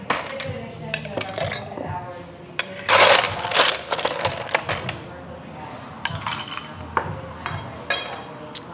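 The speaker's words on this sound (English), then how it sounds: "we're gonna add some ice both to our mixing glass and our rocks glass" Ice cubes clatter and clink into a glass mixing glass and a rocks glass, a burst of sharp clinks and tumbling cubes followed by scattered settling knocks, with a voice talking briefly in between.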